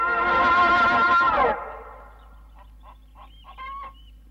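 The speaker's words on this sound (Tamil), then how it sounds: "நம்ம வீட்டு கோழி பக்கத்து வீட்டுல போய் கேடுற மாதிரி இருக்கு" A domestic hen gives a loud, drawn-out squawking call, followed by several faint, short clucks in an old Tamil comedy film scene.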